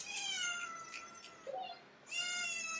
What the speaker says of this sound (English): That meowing in the background is cat number two.